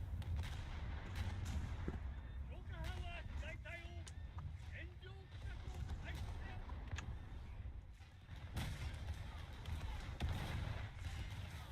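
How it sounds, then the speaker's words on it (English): Naval guns fire in War Thunder as a warship trades shots with a Scharnhorst battleship: repeated booming blasts and sharp cracks spread across the stretch, mixed with ongoing battle noise while a person talks over it. "It's shooting at me, so I'm shooting at her."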